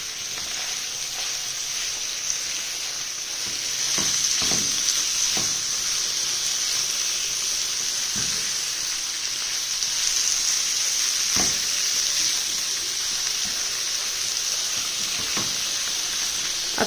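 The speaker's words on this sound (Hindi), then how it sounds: "अब लहसुन को 2 मिनट तक फ्राई होने देना है।" Garlic frying in a pan ahead of chicken strips for a tortilla wrap filling, giving a continuous bright hiss and sizzle with a few soft stirring knocks, close and even throughout, no voices.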